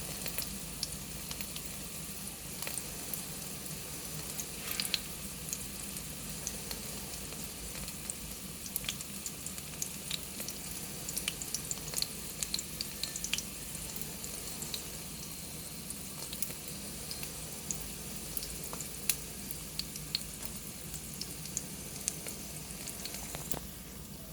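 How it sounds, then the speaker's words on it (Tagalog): Beef patties fry in a pan with a steady, faint sizzle that runs unbroken throughout, dotted with small crackles and pops. "peperito muna natin ang patties, beef patties"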